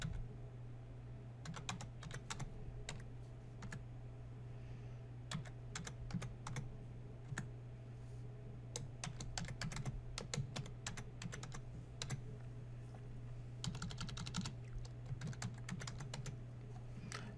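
Computer keyboard typing while user details such as a username, password and full name are entered, bursts of close key clicks in irregular runs over a steady low electrical hum.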